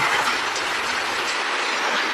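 A train arrives in the video game Ice Scream 3 with a steady, loud rolling rumble and rattling wagon noise that fills the whole stretch, with no voices.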